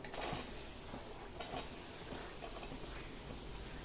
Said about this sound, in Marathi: कांदा, बटर छान मेल्ट झालंय, कांदा टाकूया।